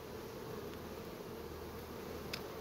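Honey bees buzz at a hive entrance, a steady close dense hum of many insects with no talk.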